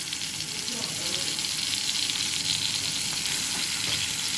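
Chow mein noodles hit a pan of frying vegetables and potatoes for a vegetarian dish, setting off a loud, steady sizzle and hiss with light stirring throughout.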